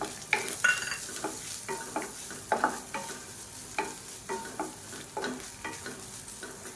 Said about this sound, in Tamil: ஒன்றரை கப் அளவுக்கு திருவண்ண தேங்காய் இதையும் இதோடு சேர்த்து நல்லா வறுத்துக்கலாம்